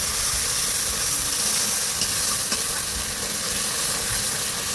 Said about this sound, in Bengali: এবার এই আদা বাটাটার সঙ্গে এই দুধটা দিয়ে দিলাম